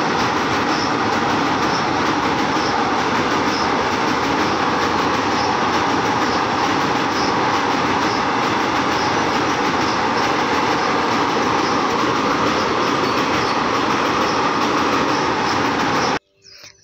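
A train passing over a bridge, a steady loud roar with rhythmic clatter of wheels on rails for about sixteen seconds, cutting off abruptly at the end.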